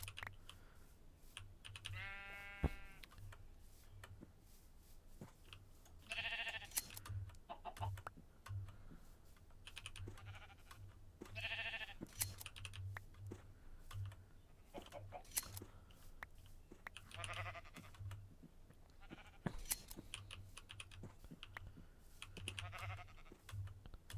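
Sheep bleats from the Minecraft video game, several short wavering calls spread across a steady patter of computer keyboard typing, with no talking.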